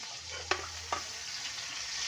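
Tomatoes added and stirred into squid adobo frying in a pan, a soft steady sizzle with two sharp scrape-like clicks from stirring early on and no talk.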